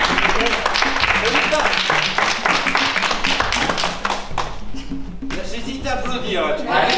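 A crowd at a Koh-Lanta finale gathering in Saint-Léo claps steadily, the applause fading briefly and resuming, with voices talking over it.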